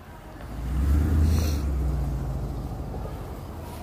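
A police car drives past on a city street, its engine and tire rumble swelling to a peak about a second in and then fading gradually, moderately close, with no talking.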